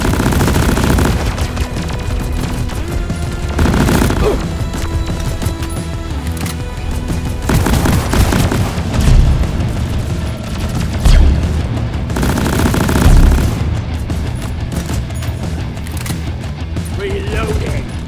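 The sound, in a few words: gunfire from video game Deep Rock Galactic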